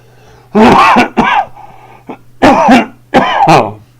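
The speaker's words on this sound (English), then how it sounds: "Excuse me for coughing." Several loud, harsh coughs come in bursts, two close together, a pause, then two more, near and clear over a low background hum.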